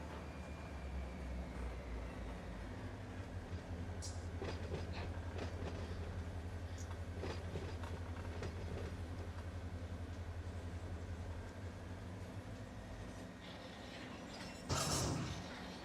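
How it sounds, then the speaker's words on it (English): Freight train rolling past in the Run 8 train simulator at an ATSF yard at night, a low steady rumble with rhythmic wheel clicks and a louder hiss burst near the end. "Got 500 feet of train to pull past me here."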